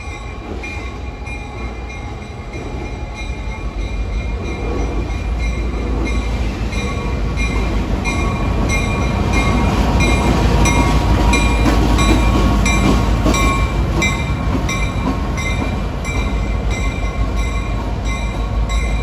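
An EMD SW1001 diesel switcher locomotive passes through Jamaica station, a loud sustained engine drone with rolling wheel noise and faint squeals building and holding close by, no voices.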